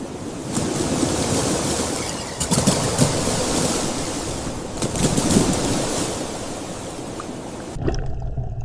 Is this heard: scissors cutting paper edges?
no